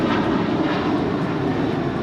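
A Philippine Airlines heavy jet taking off from runway 25 right at LAX, delivering a loud, steady broadband engine roar that stays constant and close for the whole stretch, with no voices.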